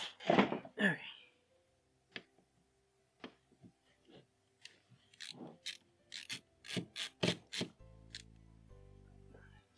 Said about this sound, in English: This is why I love this screwdriver, man.